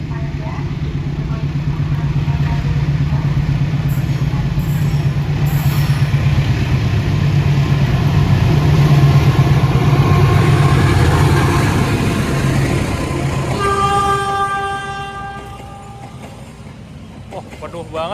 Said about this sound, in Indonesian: Ini yang lewat kayaknya kereta api Sancaka ya.